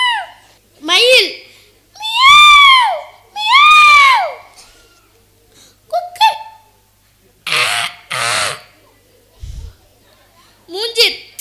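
Children at a school competition imitate a peacock, giving several loud, sharp, arching cries in a row, close and shrill, with scattered shouts and breathy bursts between them.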